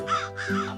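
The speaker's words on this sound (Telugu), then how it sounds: "ఆ పిల్లిని చూసి పక్షి పిల్లలు భయంతో అరవసాగాయి" Cartoon sound effect of frightened baby birds crying out, heard as a few harsh, close cawing calls in a short burst on their own.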